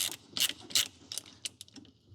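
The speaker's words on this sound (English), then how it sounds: "now there is just a clamp we can tighten up" Ratcheting clicks from a hose clamp being tightened on the return line of a widebody Porsche 911 with an LS engine swap, a few quick close bursts alone with short gaps between them.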